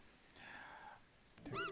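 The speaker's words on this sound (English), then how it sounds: "That's not a monster, it's just a cat-like animal." Cat-like creature in the Trails in the Sky FC video game giving a short, high, rising meow near the end, preceded by soft ambient game sounds.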